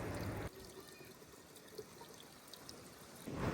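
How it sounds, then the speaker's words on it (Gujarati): A steady, soft pour of water from a bucket runs for a few seconds between louder bursts of rushing noise at the start and end, close by, without voices. "હવે ડોલમાં પાણી ભરીને આમાં નાખી દઈએ"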